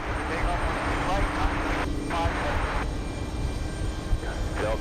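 A heavy airliner powers up for takeoff on runway 13 right at JFK, a continuous broad engine roar heard at a distance, with radio chatter voices layered over it.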